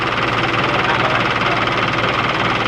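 A car engine runs at a steady idle after starter and battery testing, a loud, even mechanical hum with a low rhythmic throb that continues unbroken.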